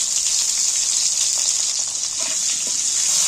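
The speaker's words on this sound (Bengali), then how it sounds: "আর কাটা আলুগুলোকে তুলে দিয়েছি তেলের মধ্যে" Cut potatoes with a pinch of salt fry in hot oil, a loud, continuous hiss and crackle that holds steady throughout with no voices.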